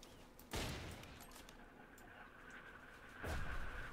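Two separate bursts of gunfire from a Roblox shooter game, one early and one near the end, each a sharp, loud blast with a short tail and quieter game noise in between.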